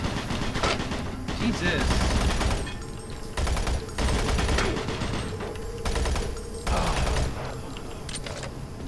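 Enemy gunfire in Doom 3 comes in repeated loud bursts of rapid shots, with a brief exclamation from a player over the shooting.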